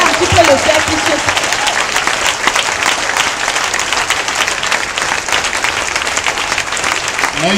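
A church congregation clapping and acclaiming together, a dense, sustained wave of applause with voices mixed in, loud and filling the room throughout.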